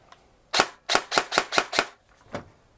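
Seven sharp, snappy shots from a G&G ETU airsoft rifle with a newly installed MOSFET, six fired in a quick even burst and one more after a short pause, close and crisp in a quiet room.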